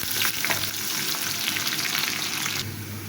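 Torn bay leaves and whole spices fry in hot oil until browned for a drumstick lentil dal, a close, continuous sizzle with light stirring, steady throughout and with no talk.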